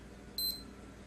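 A single short electronic beep from a black Puma digital watch (PU910801005) as its button is pressed, a brief high-pitched tone in otherwise quiet surroundings.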